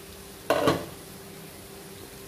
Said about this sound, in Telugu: మిక్స్ చేసుకున్న తర్వాత మళ్ళీ లో ఫ్లేమ్లో 2 నిమిషాల పాటు ఈ ఆలూని అలాగే మగ్గనివ్వాలి